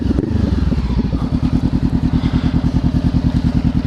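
Honda CBR 500 R motorcycle, a 2016 model, loud and close with a steady rapid engine pulse and rough mechanical clatter as it revs hard through a wheelie, no talking.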